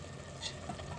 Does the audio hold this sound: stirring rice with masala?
yes